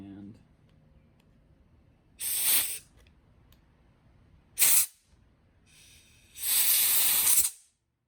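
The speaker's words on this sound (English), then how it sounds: "Now I'm going to take my air compressor with the little tip" Short blasts of air from a compressor with a small nozzle tip, used while installing a Sea Doo fuel system: three loud hissing bursts, the first and last lasting about a second, with a brief sharp puff between them.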